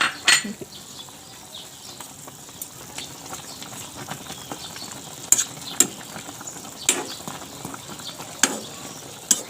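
Dried salted fish (tuyo) frying in a pan with soy sauce added, a steady broadband crackle and sizzle with sharp pops and spatters scattered throughout, close and continuous with no talk.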